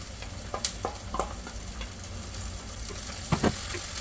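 Ground chili and spice paste for a Kerala-style prawn curry sizzles softly in a pan while it is stirred, with a few sharp scrapes and clinks standing out.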